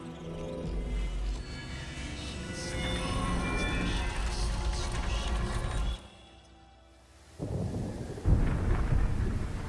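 Thunderstorm in the PC video game Throne and Liberty: loud rolling thunder and rain noise with a low rumble, a sudden drop to near quiet, then a renewed heavy crash of storm sound near the end.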